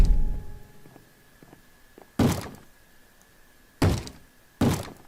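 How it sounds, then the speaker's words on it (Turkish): In a Minecraft horror map, something bashes at a door: three heavy, loud thuds at uneven intervals, each ringing briefly, after a quieter stretch of faint knocks and shuffling. "Abi kapıyı bir şey kıracak oradan."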